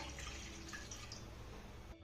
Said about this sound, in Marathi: अर्धी वाटी पाणी यामध्ये घालायचं आहे